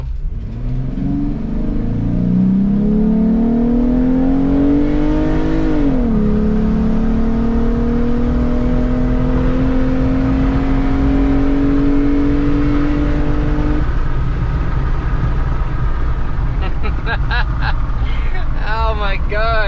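A 2015 Jeep Wrangler with a custom 3-inch intake and built-in heat shield pulls hard from inside the cabin, its engine note rising steadily through a gear change before easing off, loud and continuous with people talking over it.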